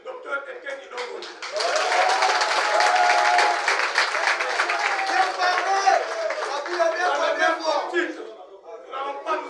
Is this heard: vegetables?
no